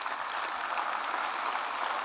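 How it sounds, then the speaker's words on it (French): Dense audience applause fills the hall at a young farmers' congress in Metz, a sustained crackle of many hands at steady volume, with no talking over it. "On peut les applaudir."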